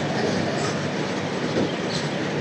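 The 22875 Uday Express passenger train runs on tracks between Visakhapatnam and Vijayawada, a steady loud rumble with rhythmic wheel clatter heard from on board, no speech.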